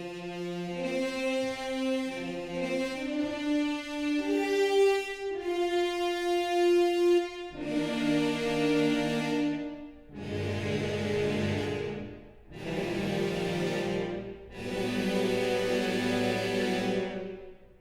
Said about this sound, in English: here is 12 horn ensemble mutes